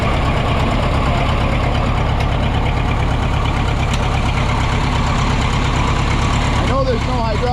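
A Minneapolis Moline Big Mo 500 tractor engine, running for the first time in over ten years, chugs with a steady low rhythmic knock, loud and close throughout.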